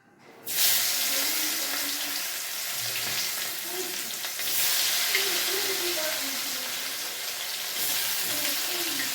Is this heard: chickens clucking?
no